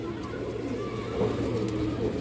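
Pigeons being shown for sale coo softly in a low, continuous murmur, with a faint hum of background noise and no talking.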